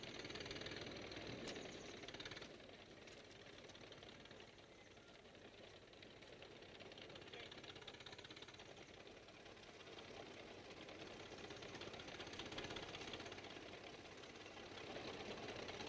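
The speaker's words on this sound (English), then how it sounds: "Johnny got us a tractor" A tractor engine runs steadily at a distance, a low, even mechanical chug that stays faint and unbroken throughout, muffled under a wash of background hiss.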